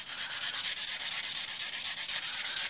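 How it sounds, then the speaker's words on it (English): Steady rhythmic sanding, quick back-and-forth strokes of abrasive on a small craft Christmas ornament, close up and continuous with no talking. "so you're sanding yours"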